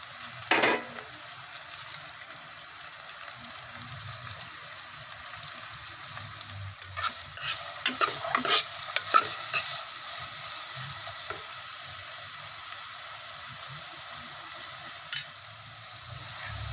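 Greens and capsicum stir-fried for a Chinese chicken soup, a continuous sizzle in the pan with bursts of spatula stirring and scraping clustered in the middle, close and moderately loud with no talking.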